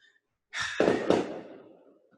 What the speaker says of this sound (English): I don't know if you guys can hear the fireworks going off.